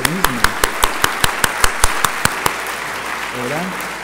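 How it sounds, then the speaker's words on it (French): An audience at a university graduation ceremony applauds the award nominees, with close, steady claps falling in an even rhythm, while a voice speaks briefly at the start and again near the end. "les trois nominés, je vous demande de les applaudir"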